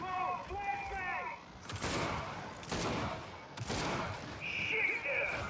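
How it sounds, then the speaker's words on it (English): A flashbang grenade goes off during a two-player Horde match in the Gears 5 video game, among bursts of gunfire and booming blasts that rise and fall over several seconds, with excited voices over the action. "Whoa, flashbang!"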